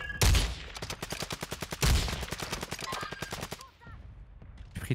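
Rapid sniper and automatic gunfire rings out in a video game, a dense run of sharp cracks with two heavier booming shots, loud and close, fading into scattered shots near the end.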